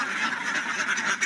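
Ducks at a duck farm give a brief burst of overlapping quacks from a close flock, loud and continuous with no talk.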